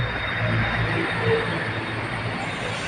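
BTS Silom Line skytrain rolling into platform 3 of a Bangkok elevated station, a steady low rumble of wheels and traction hum with a faint squeal, moderately loud and continuous, with no voices.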